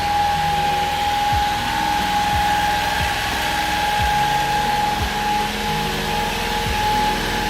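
An Acty's engine idles with a steady hum throughout, smooth and even, with faint low thumps recurring roughly once a second.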